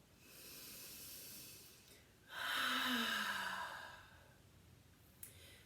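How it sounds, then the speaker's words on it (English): A long, soft inhale is followed by a deeper open-mouthed exhale during a gentle seated yoga breathing exercise, heard alone and close, with a steady hiss of room noise underneath. "Deep inhale. Open mouth, exhale."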